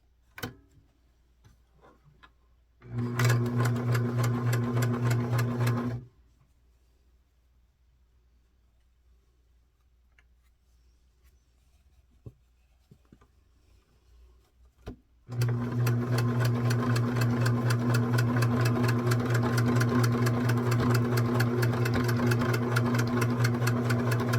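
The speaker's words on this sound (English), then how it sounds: "now we're going to sew that in place" A sewing machine runs a straight stitch on an 18-inch doll's 1904-style walking dress, made from McCall's pattern 2061. It gives a short steady burst, falls quiet, then runs again for a longer even stretch, with no talking.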